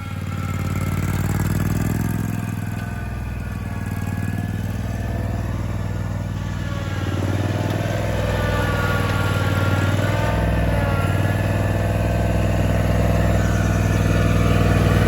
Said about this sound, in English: And crank your RPMs up a little.